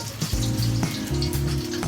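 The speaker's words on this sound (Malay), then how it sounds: "kita tumis bagi dia bau serba-serba apa semua" Spices sautéing in a little oil for a prawn sambal with petai give a steady, close sizzle and crackle that runs unbroken with no talking.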